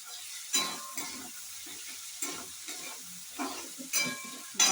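Tomatoes drop into ginger frying in a pan, bringing on several bursts of loud sizzling with a steady hiss and occasional stirring between them. No one speaks.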